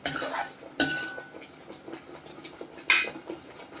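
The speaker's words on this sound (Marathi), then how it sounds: "मध्ये मध्ये हलवत राहायचे." A spoon stirs matar paneer frying in a pan over a raised gas flame, with close metallic scrapes and clinks recurring at intervals over a steady sizzle.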